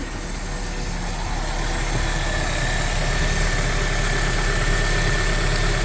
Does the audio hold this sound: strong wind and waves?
no